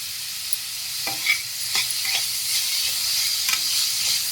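Tomatoes frying in a pan while a spoon stirs them, a constant bright sizzle broken by several scraping strokes, close and clear with no talking.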